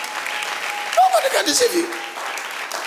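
Church congregation clapping during a faith service, a burst of applause mixed with a preacher's voice and crowd noise, moderately loud and close.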